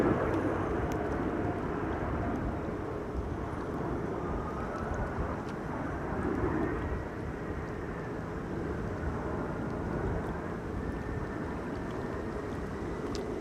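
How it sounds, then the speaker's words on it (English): An airplane lands on runway 24 at Amsterdam Schiphol Airport during a storm, a steady broad engine roar with a slowly shifting whine, heard from a distance through wind. "Landing on runway 24 instead"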